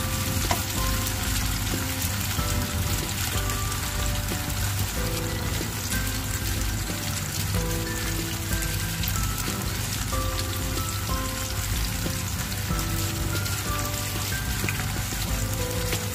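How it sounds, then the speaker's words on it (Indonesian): Shallots and garlic sautéing in a pan, giving a loud, steady, dense sizzle and crackle of frying oil throughout, close and continuous with no talk. "Kita harus pakai trik kita sendiri untuk menumis bawang merah dan bawang putih."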